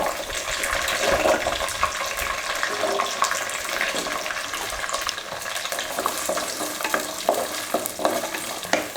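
Whole shallots fry in hot oil with dried chillies and curry leaves for a Chettinad chicken fry, giving a loud, dense crackling sizzle with steady spoon stirring up close and no voices.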